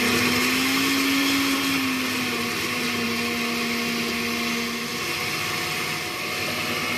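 Electric blender whirring steadily as it purées mango for a mango tapioca sago dessert, a loud continuous motor drone with a slight pitch dip partway through, heard alone without talk.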